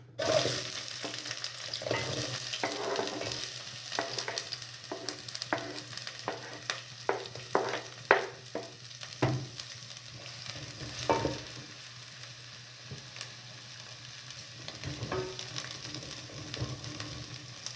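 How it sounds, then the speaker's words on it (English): Onions sizzle in hot oil in a pot for fresh tomato soup, a continuous close crackle broken by repeated spoon scrapes and stirring clatter, with no talking. "I'll cook the onions until they are translucent before I add the garlic."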